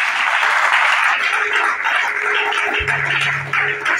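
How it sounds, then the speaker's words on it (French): A church congregation applauds and cheers, dense sustained clapping and voices filling the room loudly throughout, with a low steady tone entering near the end. "Est-ce qu'on peut acclamer le Seigneur pour elle?"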